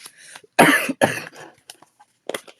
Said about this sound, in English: See, my coughing's not as bad.